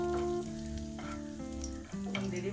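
Raisins frying in ghee for a prawn biryani give a soft, continuous sizzle under a steady tonal hum that changes pitch a few times.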